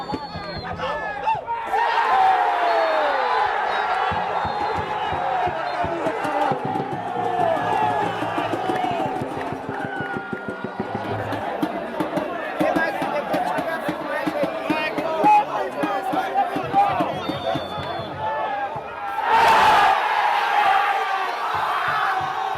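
Football supporters at an amateur match roar and cheer as a dense crowd, with whoops and shouts rising over constant chatter and a loud swell near the end.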